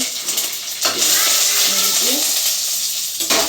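Dried red chillies and curry leaves crackle and sizzle in hot oil for a Tamil ridge gourd kootu, a steady close frying hiss with brief gaps at the start and end.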